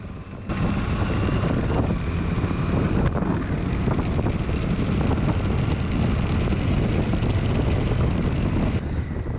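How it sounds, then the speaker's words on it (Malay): A motorcycle rides along fitted with a Quad Lock vibration dampener, giving a steady, loud rumbling drone buffeted by wind noise throughout, with no voices. "Dan yang terakhir adalah motor berjalan dengan dampener."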